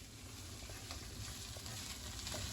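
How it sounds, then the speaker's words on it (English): Onion frying with spices as the base of a curry gravy, a close, continuous crackling sizzle that holds steady throughout with no talking. "That is just onion cooking with all the spices."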